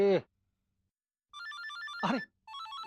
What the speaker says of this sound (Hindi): विचू का फोन है।